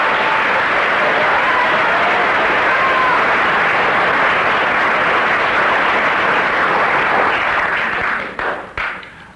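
A studio audience applauds loudly and steadily for about eight seconds, dense clapping close up that thins and breaks off near the end.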